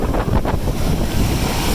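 Ocean waves rolling onto a beach on a rough summer day, a loud continuous surging wash with heavy wind rumble across the microphone and no voices, steady for under two seconds.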